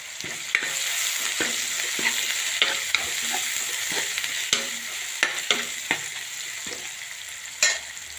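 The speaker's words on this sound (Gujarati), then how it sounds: "ડુંગળી શેકાવા દેવાની છે।" Thinly sliced dried onions sizzle in hot oil with asafoetida and a red chilli, a steady close frying hiss broken by regular scraping clicks of a spoon stirring the pan.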